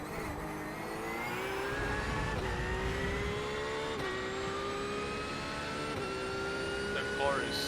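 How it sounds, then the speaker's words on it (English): A loud Porsche GT3 race car engine at Spa-Francorchamps in the iRacing sim roars steadily with rising revs through gear changes, under a voice talking. "That car is so loud."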